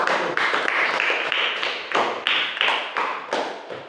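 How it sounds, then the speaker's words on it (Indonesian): Classroom of students clapping together for presenting group 1, a steady run of brisk claps in pulsing bursts, fairly close, with no talk over it. "kita beri tepuk tangan untuk kelompok 1"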